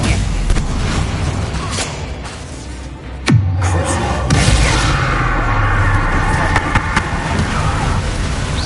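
A Bombarda spell explodes in the Hogwarts Legacy video game, one sharp booming blast partway through that stands out over a constant loud bed of game noise and rumble.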